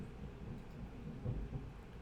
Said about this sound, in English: And it's thundering outside, so my goodness, a lot of thunder.